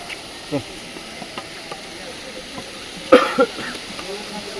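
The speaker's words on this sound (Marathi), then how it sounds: "खोकला येतो" A person coughs a couple of times, sharply and up close, while trekking uphill on the Kedarnath yatra trail, over quiet outdoor background with faint scattered sounds.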